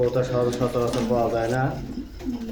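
Soft, rolling coos from pigeons close by, repeated in a low warbling rhythm with some background noise.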